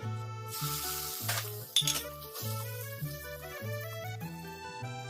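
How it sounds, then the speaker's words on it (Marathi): A brief hiss and sizzle as hot tempering oil is poured onto onion chutney, with a metallic clink, under steady background music. "आता ही तयार करून घेतलेली फोडणी लगेच कांद्याच्या चटणीवर घालायची"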